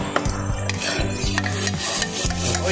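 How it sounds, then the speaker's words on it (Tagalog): Tomatoes are stirred into sautéing onions in a pan for pork adobo with sweet potato, with rhythmic scraping strokes of a utensil against the pan repeating about every half second under a soft sizzle. "Lagyan natin mga idol yung ating kamatis."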